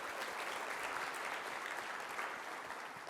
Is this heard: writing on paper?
no